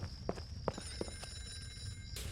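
A telephone rings on and on in a horror first-person shooter game, its high bell tones running steadily beneath scattered footsteps and soft thuds, ending with a brief burst of noise.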